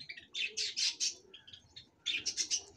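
Java sparrows in a cage give quick bright chirps in two short clustered runs separated by a quieter gap, soft and close with faint background noise.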